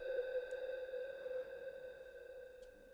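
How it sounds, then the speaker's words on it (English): A sustained synth tone with steady layered harmonics and a long reverb tail, played alone with no voices. "This is the synth sound Hydrus."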